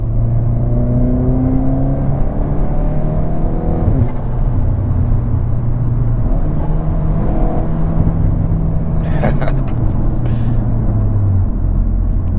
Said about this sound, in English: Now the 6 AxleBack exhaust, you do get a little bit of droning right between like 3 and 4.